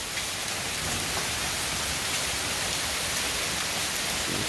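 Rain falling outside an office, a steady dense hiss of drops filling the whole clip, with a voice speaking briefly over it.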